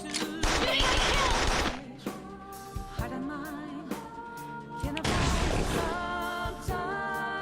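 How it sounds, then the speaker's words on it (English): Bursts of rapid gunfire during a Persona 5 Royal battle, loud volleys in two main clusters with single shots between them, mixed with game music and effects. "just shoot the thing"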